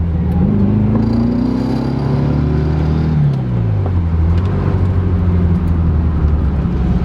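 A Volkswagen Beetle (Fusca) drives at steady speed, its engine droning loudly throughout with a slight rise and fall in pitch and constant road and wind rumble.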